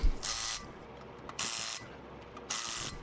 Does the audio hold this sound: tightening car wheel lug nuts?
yes